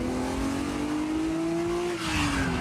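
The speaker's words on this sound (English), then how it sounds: "You press the throttle down and the sheer power of the engine opens lifts the front of the car right off its ride height." A Ferrari Daytona Spider V12 engine revving under throttle, a loud, sustained rising tone that climbs steadily, then eases briefly and swells again near the end.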